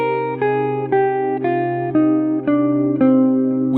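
A guitar plays a descending C natural minor scale, the Aeolian mode: clean single notes picked one at a time at an even pace, each stepping lower, ringing clearly and alone.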